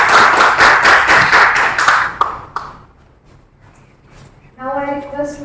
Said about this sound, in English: I think the claps must go on.